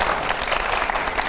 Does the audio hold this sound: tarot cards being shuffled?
no